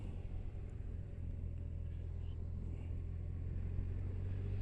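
A motorcycle rides along a road, its steady low engine rumble and wind noise continuous and fairly muffled throughout, with no talking.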